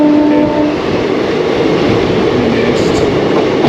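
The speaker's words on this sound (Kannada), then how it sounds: "ಓಕೆ, ಗಾಡಿ ಬಂತು. ಯಾವ ಟ್ರೈನ್ ಅಂತ ಗೊತ್ತಿಲ್ಲ, ಬಟ್ ಮೈಸೂರು ಕಡೆ ಹೋಗ್ತಾ ಇದೆ" A train runs past steadily on a rail line, headed for Mysore, its loud continuous rumble and wheel clatter filling the whole stretch, with a brief horn-like tone near the start.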